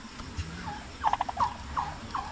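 Turkeys on a farm giving several short warbling gobbles and squeaky calls in quick bursts, fairly close but modest in volume against a quiet background.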